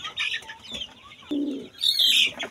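A caged male pigeon coos in short, close bursts, with soft rustling and a brief bright chirping sound near the end.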